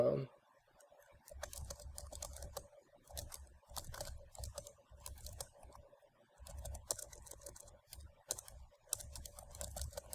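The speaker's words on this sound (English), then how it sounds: "the next step is to type in the description of the item" Typing on a computer keyboard to enter an item description, with quick bursts of close key clicks broken by short pauses and a voice speaking faintly in between.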